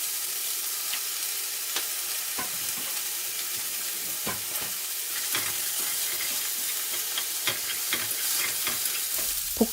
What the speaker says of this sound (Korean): 이제 양파랑 파를 볶아줄게요.